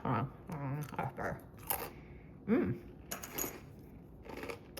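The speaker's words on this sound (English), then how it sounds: "I'm just gonna throw some well-placed salty pretzels" Salty pretzels dropped by hand onto a homemade candy bar, a scatter of sharp close clicks and crunchy taps in irregular bursts, with a bit of voice between them.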